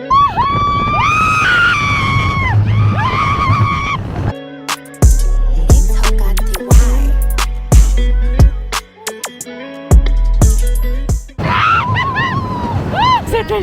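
Riders scream on an amusement ride in San Diego, loud shrieks and wails from several people at the start and end, with rattling, clanking ride machinery and heavy rumbling thumps in between.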